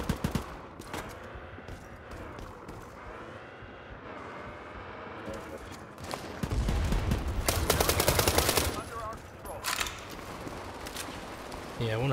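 Automatic and single gunfire from a World War 3 battlefield shooter, aimed at an armored target: a steady background of shots swells into a loud, dense burst of rapid fire mid-clip, then trails off into scattered shots.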